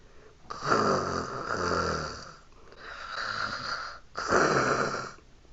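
Three long, rasping snores, each rising and fading with a pause between, loud and close. It sounds like a person imitating snoring.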